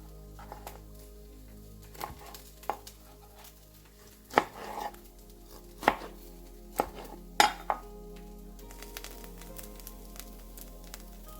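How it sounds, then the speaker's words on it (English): A serrated knife roughly chops fresh garden tomatoes for shakshuka on a board, delivering sharp, uneven knocks at irregular intervals, close and clear with quiet gaps between cuts. "I like to use serrated knife for tomatoes. That way the knife doesn't slide across. And we'll just roughly chop them."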